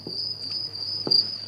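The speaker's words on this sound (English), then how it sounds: "Cue the crickets." Crickets chirping in a steady high trill, with a couple of soft low knocks in the background and no voices.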